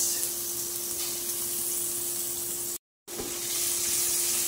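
Garlic and onion sautéing in butter for a shrimp dish, a loud steady sizzle with a faint constant hum, cut by a brief silence partway through before resuming.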